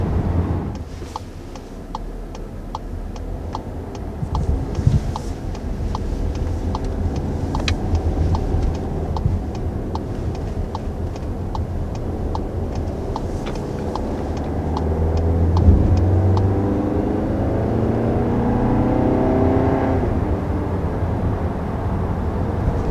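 A 2020 Volkswagen Tiguan accelerates, heard from inside the cabin as a steady engine and road drone that swells midway. A turn signal ticks in the first part.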